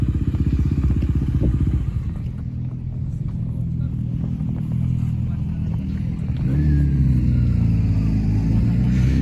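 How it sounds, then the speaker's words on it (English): An adventure or dual-sport motorcycle rumbles past on a street in Japan, engine droning steadily and swelling louder toward the end as it nears, with someone talking over it throughout. "These adventure bikes, especially they're sometimes called what they call them dual sport or adventure bikes."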